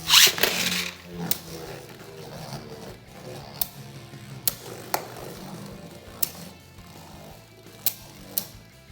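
Beyblade tops Keeper Kerbeus and Brave Valkyrie battling in a stadium, giving a steady close whirring scrape punctuated by sharp clicking impacts every second or so, with no talk.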